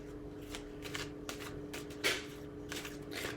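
Tarot cards being shuffled by hand, a run of soft papery riffles and flicks with one sharper snap near the middle, quiet and close with no talking.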